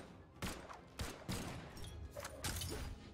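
Gunfire from a weapon in the platform fighting game Brawlhalla fires in a string of sharp, punchy blasts at uneven intervals, fairly quiet overall, over a busy background of game sounds.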